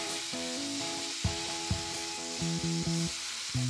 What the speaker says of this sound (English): And now I'll get to work on the ragu in the pan. Take these vegetables and just put them right in.